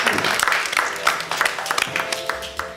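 A small group applauds a girl who has just given her name, producing a short round of scattered, moderately loud hand claps that thin out toward the end, with some voices underneath.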